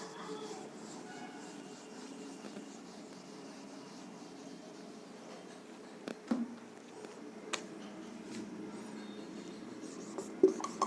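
A marker scratches and squeaks across a board during a Hindi grammar lesson, producing a faint continuous scrawl with a few sharper taps near the end.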